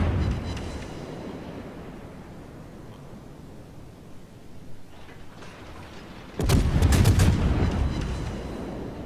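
Naval artillery in World of Warships: a low rumbling backdrop, then a sudden loud, harsh blast of shellfire near the end that stays heavy and sustained, with no talking over it.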